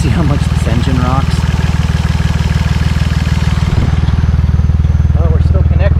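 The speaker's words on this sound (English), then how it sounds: "See how much this engine rocks?" An engine idles roughly with a fast, steady rhythmic pulsing, loud and close, while someone talks over it.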